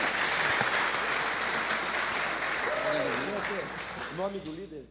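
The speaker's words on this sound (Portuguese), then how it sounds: "Uma salva de palmas." Audience at a men's congress church gathering applauds a new church cell group, a dense steady wash of clapping that fades slightly toward the end as a voice begins speaking over it.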